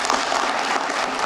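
Applause for a State of the Union response speech, a dense, continuous crowd clapping at steady volume over the short stretch.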